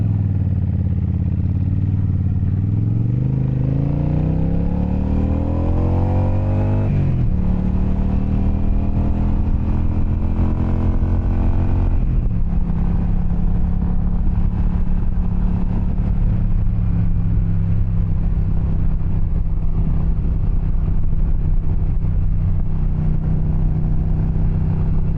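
Motorcycle engine droning steadily while riding in third gear at about 50, rising in pitch as it accelerates, shifting, then holding a steady cruising tone with wind rumble, loud and close throughout.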